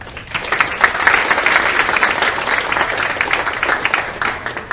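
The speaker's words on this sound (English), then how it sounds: "Let's give a round of applause to Chad Hoover" An audience bursts into sustained applause, dense clapping that swells quickly and holds steady for several seconds.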